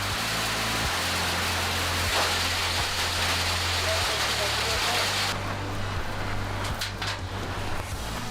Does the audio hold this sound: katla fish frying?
no